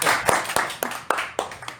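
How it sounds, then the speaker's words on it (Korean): A few people clap hands together in a short burst of about seven uneven claps, close and fairly loud. "박수"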